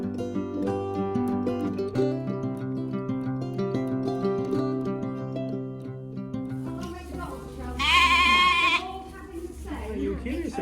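Sheep on a farm let out a loud, wavering bleat near the end, cutting over a background of layered tonal sounds and a low hum, followed by softer noises.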